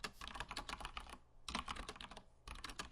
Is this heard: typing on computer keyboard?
yes